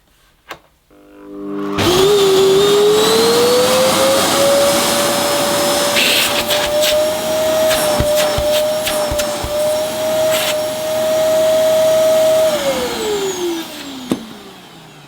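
A Hoover Enigma 2300-watt vacuum cleaner switches on after a click, whines up to a loud, steady roar with a high motor tone, runs for about ten seconds, then winds down at the end.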